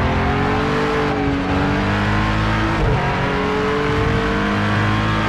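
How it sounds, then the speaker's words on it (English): In the Project Cars 2 racing game, an NSX GT3 engine whines at high revs at Daytona while cold tires scrub and skid under braking, a continuous loud mechanical drone with shifting pitch. "you can hear that initially the tire skids"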